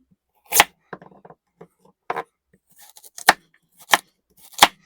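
Knife chopping carrots and other vegetables on a cutting board at home, a few sharp isolated cuts spaced irregularly with small clicks and handling noises between, close and clear, no talking.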